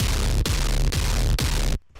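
A glitched kick sample in an electronic music track, processed with a grain effect: four loud, distorted, throbbing hits with falling pitch sweeps, each about half a second long, ending in a brief cut to near silence.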